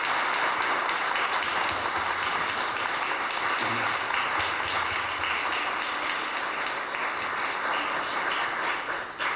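Warm, sustained applause from an audience at a panel discussion on archives and human rights records, a dense even wash of clapping that holds steady before tapering slightly at the end.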